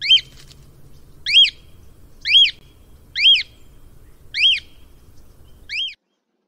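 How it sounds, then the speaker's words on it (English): A cockatiel gives six clear, evenly spaced whistled calls over faint low background noise, each a short rising-and-falling chirp about a second apart. "Cockatiel."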